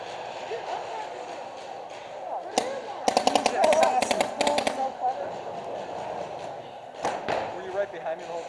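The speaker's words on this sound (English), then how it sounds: "I'm firing straight down the middle" A paintball marker fires rapid bursts down the middle of a field, a quick string of sharp cracks mid-clip and another short volley near the end, with voices talking and shouting throughout.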